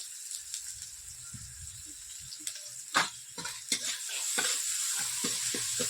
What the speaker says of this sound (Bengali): এর মধ্যে এবার লঙ্কার গুঁড়ো দিয়ে দিলাম, হলুদের গুঁড়ো দিয়ে দেবো,